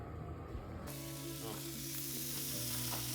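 Breakfast sizzles in a pan on a wood stove, a steady broadband crackle and hiss that kicks in loudly after a quiet start and continues close up, with faint talk beneath.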